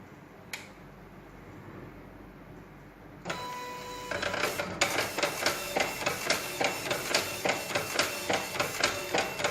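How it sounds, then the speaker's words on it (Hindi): A dot matrix printer runs its self test with no print appearing on the paper: after a quiet hum, loud rapid mechanical ticking and rattling bursts repeat in a steady rhythm, close by and alone. "इसमें प्रिंटर काम कर रहा है लेकिन पेपर पे प्रिंटिंग नहीं हो रही है।"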